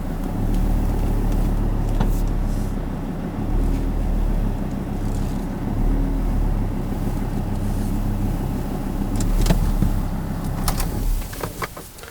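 A vehicle drives out from under a raised Wedgetail camper, its engine a low steady rumble close by, with a few knocks and clunks near the end.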